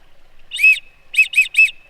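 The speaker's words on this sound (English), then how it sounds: "Try out this whistle." A small whistle from an emergency survival kit is blown close by, one shrill trilling blast followed by three quick short bursts in a row, loud against near silence.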